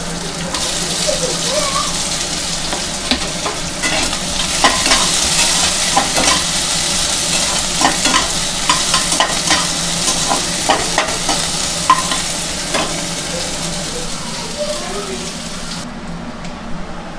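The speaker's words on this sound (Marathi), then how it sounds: "आपण आता कांदे भाजून घेणार आहे त्या तेलातच." Onions fry in hot oil with a bright, dense sizzle and crackle, interrupted by frequent stirring scrapes, loud and close throughout, fading abruptly at the very end.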